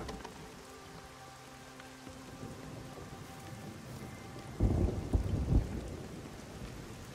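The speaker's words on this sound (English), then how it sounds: "Rain's come back." Rain falls steadily in the video game Everybody's Gone to the Rapture, and about midway a loud low rumble of thunder rolls in and dies away, with no voices.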